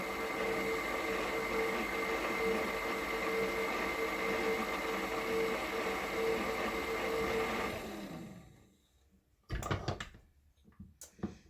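A stand mixer running while sponge cake batter is worked, a steady, even mechanical whir with a constant tone that winds down and stops, followed by a few close clatters.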